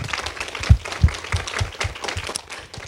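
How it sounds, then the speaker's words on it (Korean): Applause from an audience at a Korean association meeting led by a world chairman, a rhythmic patter of clapping hands with several louder claps standing out, fairly close and steady for a few seconds. "큰 박수를 한 번 더 보내주시면 감사하겠습니다"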